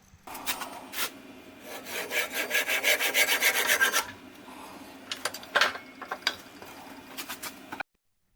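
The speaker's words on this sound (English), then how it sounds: "I use a small saw to cut the rest of the way through" Close, rhythmic rasping strokes of a small hand saw cutting through a wood blank for a salt and pepper mill, quick back-and-forth bursts that pause briefly, then resume more unevenly before stopping.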